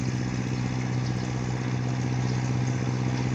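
A jukung boat's outboard motor on the Musi river runs at a steady idle, a constant low engine drone with a strong hum that holds evenly throughout, fairly close and without voices.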